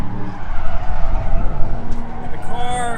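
Nissan 350Z drift car skidding: loud, sustained tire scrub and engine roar close by, steady for several seconds with a brief higher squeal toward the end, and a voice talking over it.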